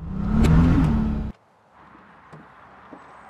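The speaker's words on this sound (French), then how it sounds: "tu as le tout petit moteur, voilà, le petit V12" BMW 850 CI V12 engine gives a loud, close rev that builds for just over a second and then cuts off abruptly, leaving a quiet, faint background hum.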